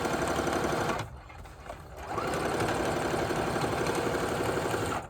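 A sewing machine stitching through a junk journal signature made of paper, a close, rapid mechanical chatter that pauses briefly and then runs steadily.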